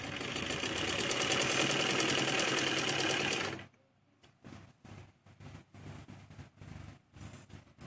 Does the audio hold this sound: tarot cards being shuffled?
no